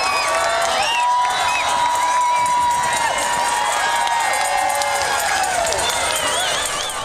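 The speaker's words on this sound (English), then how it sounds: "Thousands upon thousands of people lined the streets, cheering, running, and waving flags." Crowds lining the streets along the Olympic torch relay in Vancouver cheer, shout and whistle in a loud, continuous outdoor roar, with overlapping voices and scattered clapping.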